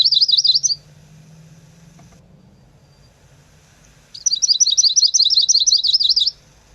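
A male warbler's high, fast trilling song in two bursts, a short one and then a longer one after a quiet pause, clear and close, at Big Bear Lake.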